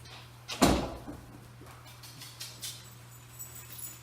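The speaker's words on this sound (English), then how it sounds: "yeah, you can go and close that door." A door swings shut with a single sharp knock during a scent-work dog training class, loud and close, then only faint small taps and a steady low hum of the room.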